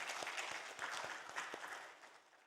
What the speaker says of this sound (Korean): 하나님께 감사의 박수로 영광을 돌리겠습니다.